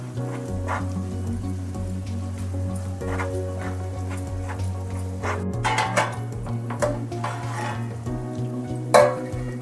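Masala fries in a pan with stuffed bitter gourd, making a steady close sizzle under a low hum. Repeated clicks and scrapes of a spoon against the pan run through it, with a sharper knock near the end and no voices.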